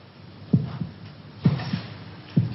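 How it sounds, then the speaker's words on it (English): A heartbeat sound effect from a 1968 BBC TV series, three slow, deep double thumps about a second apart, close and distinct against a quiet background. "Can you hear your heart beating?"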